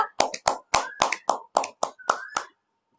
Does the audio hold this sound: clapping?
yes